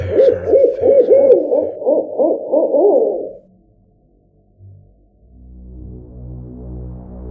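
An owl hoots in a quick series of deep, close, resonant calls for about three seconds, and then fades to quiet before a low droning tone rises.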